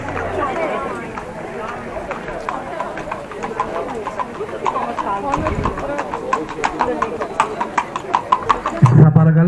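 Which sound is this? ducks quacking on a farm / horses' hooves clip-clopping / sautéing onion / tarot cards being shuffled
horses' hooves clip-clopping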